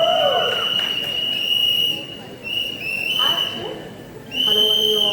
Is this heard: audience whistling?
yes